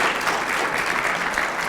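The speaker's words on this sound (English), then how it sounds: "could you give a big round of applause, please, for Dan O'Connell?" An audience at a breakfast morning event in Cork applauds steadily, a dense, even wash of many hands clapping together, sustained at a constant level with no voices over it.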